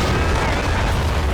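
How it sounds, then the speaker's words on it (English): Artillery shelling during a convoy ambush firefight in the war game Army Men of War, a dense, loud, continuous rumble of booms and gunfire with no clear pauses. "Taking some shots from the artillery."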